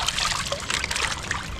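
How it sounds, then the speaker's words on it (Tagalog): Rainwater trickles and gurgles as it is drained toward a canal, a continuous close splashing flow with small bubbling accents. "agusin natin yung tubig."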